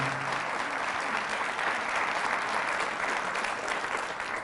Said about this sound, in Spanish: Fuertes aplausos al Rey de Reyes, el Señor de Señores